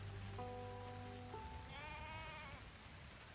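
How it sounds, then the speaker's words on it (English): Steady heavy rain hisses outside a video game tavern, a constant wash of noise under brief tonal bleating sounds, with no voices. "It's raining quite hard outside"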